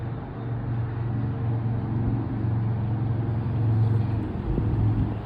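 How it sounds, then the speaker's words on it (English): Car traffic from a nearby busy road beside a rocky stream in autumn, a continuous low rumble of passing vehicles swelling slightly toward the end, heard on its own without talk. "if you hear some car noise in the background"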